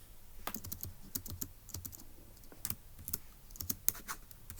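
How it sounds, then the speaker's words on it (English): Notes typed on a computer keyboard while working a Turing Machine logic puzzle, a quick irregular run of close, crisp key clicks with short pauses and no voice. "So let's go ahead and type that up in our notes in section C."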